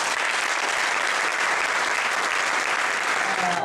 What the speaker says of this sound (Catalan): un aplaudiment una altra vegada